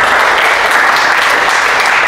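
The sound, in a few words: congregation applauding in church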